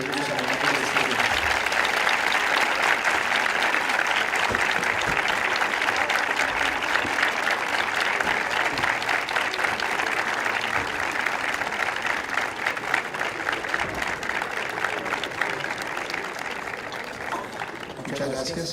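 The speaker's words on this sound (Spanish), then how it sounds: "le den un fuerte aplauso a sus familias por todo el apoyo que recibieron de ellos" Long, sustained applause from graduates at a Universidad Central ceremony honoring their families, a dense roomful of clapping holding steady before thinning slightly near the end.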